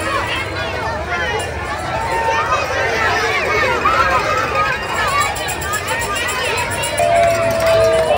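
Outdoor crowd along the route of the STRUT parade, a dense steady babble of many voices with shouts and scattered chatter, fairly loud and continuous.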